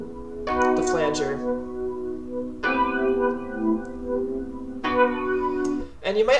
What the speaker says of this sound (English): It gave me that really sort of airy, aerodynamic, fighter jet Rhodes sound that I wanted.